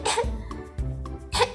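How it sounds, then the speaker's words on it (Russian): Short, forceful coughs in a child's play session with a Baby Born doll, three bursts in quick succession, close and loud, with no talk over them. "Вы почему постоянно кашляете?"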